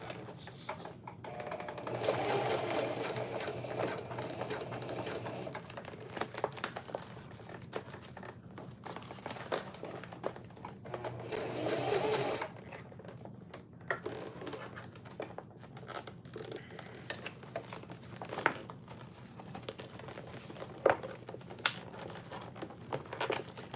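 Sewing machine stitching a clear tote bag with a gusset, bursts of fast mechanical whirring broken by pauses, handling rustles and crinkling plastic in between, fairly quiet and close.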